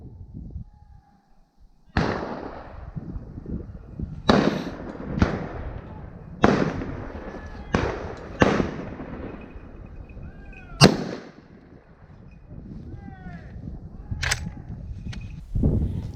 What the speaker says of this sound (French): Vous entendez que tous mes confrères tirent leurs cartouches